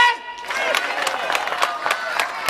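An audience at an outdoor summer cabaret band show applauds and cheers, a dense, lively burst of clapping with rhythmic rising claps and crowd voices.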